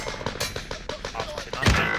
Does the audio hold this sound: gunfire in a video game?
yes